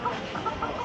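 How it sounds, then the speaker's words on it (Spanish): Chickens clucking among ducks at a street spot in Cairo's garbage city, with several short, close clucks in quick succession against a busy background. "Patos y gallinas."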